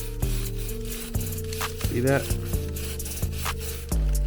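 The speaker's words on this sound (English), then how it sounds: "I'm gonna start cleaning up the wheels. You can see all that rust." Rust is scrubbed off the wheels of a 1987 Honda Shadow motorcycle in loud, close, rhythmic rubbing strokes, and someone speaks briefly.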